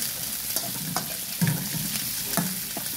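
Shrimp fry in a pan for a sweet and spicy shrimp dish, giving a steady close sizzle with occasional clicks and scrapes of stirring and no talk.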